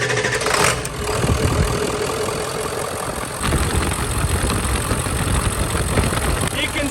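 A Jeep JK Super Duty engine running, a loud, close, continuous rough idle churning steadily with no clear start crank, and faint talk underneath.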